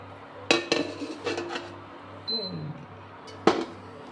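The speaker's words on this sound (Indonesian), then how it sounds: "sekarang aku ambil piring" Ceramic serving plates clink and clatter in a home kitchen as they are taken out, several quick knocks in a row and one more sharp clink near the end, with a faint stove-side background.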